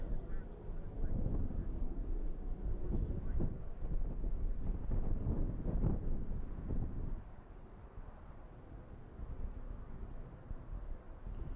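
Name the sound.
cold wind blowing outdoors at night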